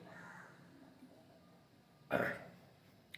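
A single short, harsh cough rings out close by after a stretch of quiet room noise.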